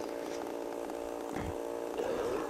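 A chainsaw roars inside the horror video game Cry of Fear, a steady buzzing engine drone that runs loud and close for the whole stretch, with a brief lower surge midway.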